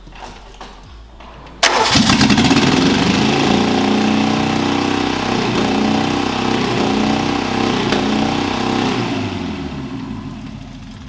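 A Peugeot 309 GTI engine catches abruptly and settles into a loud, steady running idle close by, the rough mechanical drone holding for several seconds before easing slightly toward the end, with no talk.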